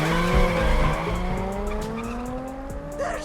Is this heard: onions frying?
no